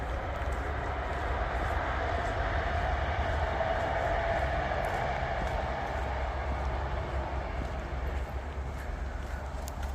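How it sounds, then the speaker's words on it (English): A train passes at a distance as a steady low rumble that holds for several seconds on a nature walk in Sweden, fairly faint and with no talk over it. "Can you hear the train?"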